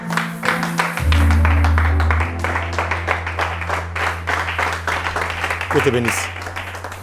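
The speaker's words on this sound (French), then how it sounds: "Lève-toi et acclame la parole de Dieu." A church congregation applauds and cheers in a French-language worship service, steady clapping running under a preacher's loud amplified voice and organ-like sustained tones throughout.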